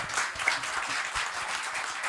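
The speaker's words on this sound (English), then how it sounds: "So I'm glad you're clapping and not throwing brickbats." Applause from a seated audience at a medical talk on surgical guidelines, a dense, steady wash of many hands clapping that holds at an even level throughout with no voices over it.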